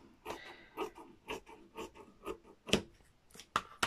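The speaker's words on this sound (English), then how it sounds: "let me chop this down to size a bit better. Sewing scissors." A series of short crisp snips of sewing scissors cutting fabric, about ten in a row at an uneven pace, close by, with a couple of sharper cuts near the end.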